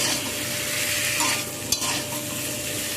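Drumstick pieces with potato and tomato are stirred in a hot pan, a dense continuous sizzle under a spatula scrape with one sharp knock near the end, close and fairly loud, no voices.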